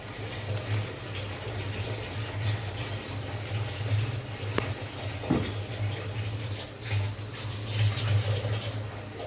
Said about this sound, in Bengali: মিক্সির বাটিটা ধুয়ে একটু জল দিয়ে দিচ্ছি